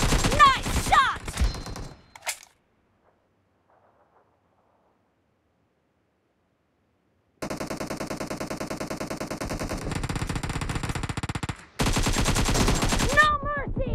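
PUBG Mobile gunfire in a warehouse arena match: rapid automatic bursts start and stop, a sharp burst early, a long quiet gap, then sustained loud firing with brief breaks.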